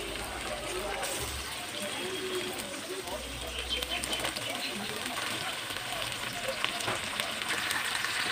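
Chicken pieces and onions sizzle and fry steadily in a pan, a constant close crackle with no pauses.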